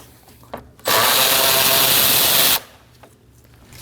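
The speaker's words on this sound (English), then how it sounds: "Using a 10mm socket, go ahead and take that bolt out." A power tool with a 10mm socket spins out a bolt during radiator replacement on a 2011-2016 Kia Optima 2.4L four-cylinder. There is one loud, steady whirring burst of nearly two seconds, close up, with quiet garage ambience before and after.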